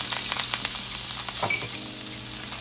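Garlic, green onion and parsley sautéing in leftover salmon grease and oil, a close, steady sizzle with a few soft stirring scrapes.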